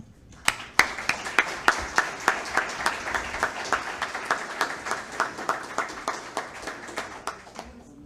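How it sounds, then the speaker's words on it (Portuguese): A crowd applauds at a formal awards ceremony in Brazil, a steady run of sharp, closely spaced claps that carries on throughout, loud and fairly near. "uma salva de palmas a essa grande personalidade"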